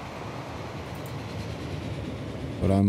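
Steam train Mallard with new coaches in the Transport Fever video game rumbles past as a steady rolling train noise, with a louder humming swell at the end and someone talking over it.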